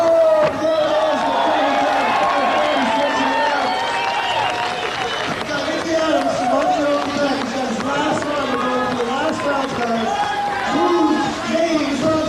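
A crowd at a 1998 ASA skate contest in Las Vegas cheers and shouts in a dense, steady roar, with a commentator talking over it.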